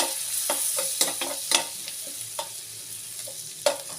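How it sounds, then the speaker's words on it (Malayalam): Chili flakes and pasta are stirred in a hot pan with a plastic spoon, giving soft sizzling broken by repeated scraping strokes in an irregular rhythm. The sounds are close and no one talks. "ഓക്കെ, കുറച്ച് നമുക്ക് ഇളക്കി കൊടുക്കാം."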